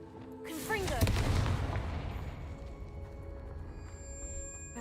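A Confringo fire spell explodes in Hogwarts Legacy: a brief voice, then one loud burst that rolls into a low rumbling decay with fizzing game ambience beneath.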